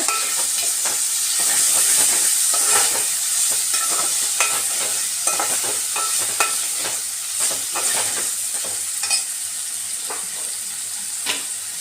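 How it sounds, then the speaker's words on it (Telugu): Tomato pieces fry in tempering oil for a fenugreek chicken curry, a loud continuous sizzle with a steady hiss and repeated crackles and stirring scrapes throughout. "ఈ టమాటా ముక్కను కూడా నేను పోపుకి వేస్తాను"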